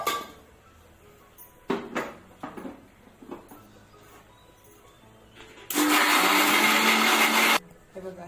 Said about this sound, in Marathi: हे आता मिक्सरला लावून याला गाळून घ्यायचं आहे.